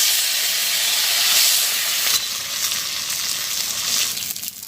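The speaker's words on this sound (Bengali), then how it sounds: "এই যে কালকের ভাজি করা পাঙ্গাস মাছ ছিল, সেটা এখন একটু আবার ভাজি করে নেব।" Leftover pangas fish from the day before sizzles loudly in hot oil in a wok, a steady broad frying hiss that fills the whole clip with no talk.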